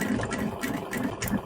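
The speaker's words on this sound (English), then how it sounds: "I'll come right to the end and I'll do a back stitch here" A sewing machine back stitches a face mask, its needle running in a quick, even rhythmic whir of close mechanical pulses over a short burst.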